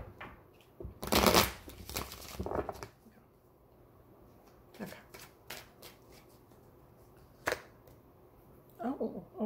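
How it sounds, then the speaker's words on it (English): A deck of tarot cards being shuffled in a few quick riffling bursts, close by, with soft handling noises and brief pauses between. "Let's give it a quick shuffle."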